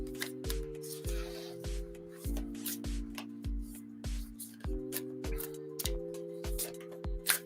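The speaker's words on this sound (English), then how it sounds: "Let me get these cards all shuffled up for you here, Tim, and we'll get you your mini reading." Oracle cards being shuffled by hand, soft riffling and tapping clicks in a steady rhythm, close and quiet, over a sustained tonal background drone.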